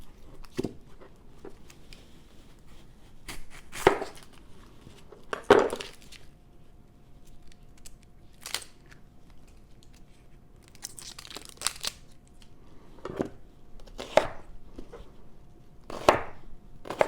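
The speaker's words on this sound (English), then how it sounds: "Chopping into pieces big enough to get in there." A knife chops half an onion on a cutting board for kimchi, with scattered sharp thuds at irregular intervals and crinkly handling sounds between them, close up and with no talk.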